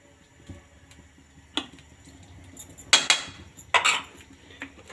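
Eggplant chips batter with lemon juice is mixed in a bowl, giving a few sharp utensil clinks and scrapes against the bowl, close and intermittent over quiet background.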